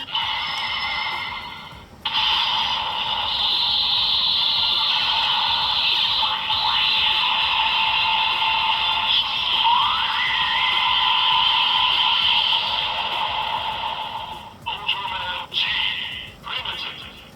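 An Ultraman Z transformation toy plays loudly: a bright, sustained synthesized tone with warbling sweeps and a rising chirp, then short bursts of electronic blips.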